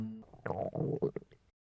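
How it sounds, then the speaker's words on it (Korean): A hungry cartoon character's stomach growls in a short cartoon sound effect: a low, wobbling gurgle that swells and bubbles for over a second, then stops. "그래서 꼬르륵 소리가 멈출 줄을 몰랐어요."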